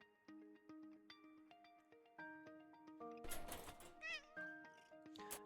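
Cat meowing in Animal Shelter Simulator 2, several short mews over light game music, with a louder, drawn-out cry in the middle and no talking.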